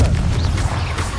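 A Confringo explosive spell in the video game Hogwarts Legacy, a short, loud booming blast with a deep rumble that fills the whole moment.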